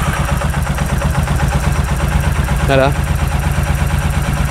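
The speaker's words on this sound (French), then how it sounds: "Elle tourne cette moto, elle tourne rond" A new Royal Enfield Horizon motorcycle idles with a steady, even throb close by, and a voice says a single word briefly over the running engine.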